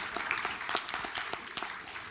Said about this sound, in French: Ah ben vous avez le droit d'applaudir.